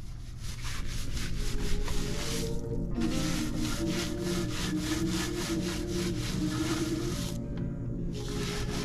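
A brush scrubs the barrels of a car's wheels, working from the top during a maintenance wash of a ceramic coated car; steady, close, continuous rubbing strokes with brief pauses, no talking.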